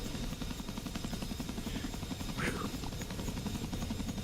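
Helicopter hovering in the DCS World flight simulator, a steady rhythmic rotor chop and engine whine at moderate loudness, continuous and unchanging throughout.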